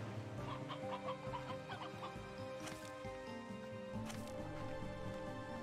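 Hens cluck and gobble as stony hen creatures in a video game, several birdlike calls overlapping over a dense, steady game soundscape with music-like tones, no speech.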